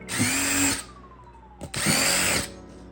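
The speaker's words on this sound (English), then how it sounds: "The idea is you just get like a drill with any bit on it" A power drill whirs loudly in two short bursts, revving up and winding down with a brief pause between them.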